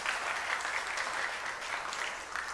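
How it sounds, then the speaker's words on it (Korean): A church congregation applauds during a Sunday afternoon service, a dense, even round of clapping that stays steady and fairly soft from start to end. "삼남성교회에 위에서 박수 한번 해드리도록"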